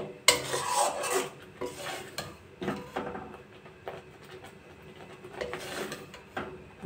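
Ripe mango jelly being stirred in a pot over a lowered gas flame, with repeated scraping and clinking strokes of a spoon against the pot, close and moderately loud, no talking.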